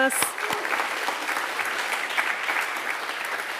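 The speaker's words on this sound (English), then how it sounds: "So, round of applause." An audience breaks into sustained applause, dense clapping that opens with a burst and holds steady throughout.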